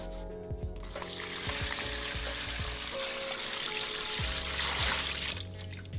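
Rust remover liquid pours into a container in a steady, bubbling trickle lasting several seconds, close by and moderately quiet, with a few glugging splashes along the way.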